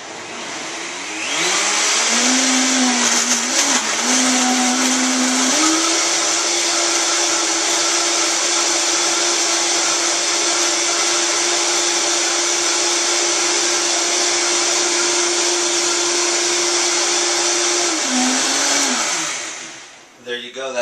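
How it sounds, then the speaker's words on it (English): A Vitamix blender blends a green smoothie with water, a loud steady motor roar that spins up, holds for most of the time with a slight pitch shift, then winds down and stops. "give it a good whack in the Vitamix here"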